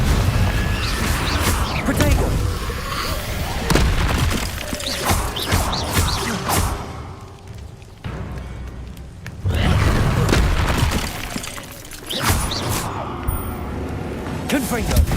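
Repeated Confringo fire-spell explosions in the video game Hogwarts Legacy, loud booming blasts and crashes bursting out in several waves over dense game noise, with a quieter lull in the middle.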